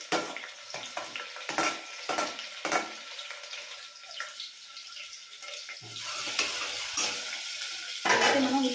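Chopped onion and green chillies sizzle in hot oil in a pan, with intermittent stirring scrapes and bursts of frying crackle, close and fairly quiet.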